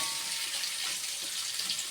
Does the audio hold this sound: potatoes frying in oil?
yes